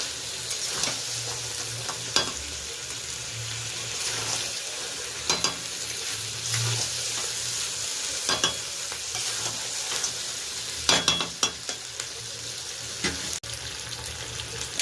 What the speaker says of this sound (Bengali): আমাদের কষানো চলছে, এরকম কষাতে, জল এখনো দিইনি